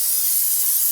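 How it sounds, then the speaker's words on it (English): Brake parts cleaner sprayed onto the engine oil filter area of a 2007-2014 Cadillac Escalade, a loud, steady, close hiss filling the whole short moment with no talk. "A little brake parts cleaner."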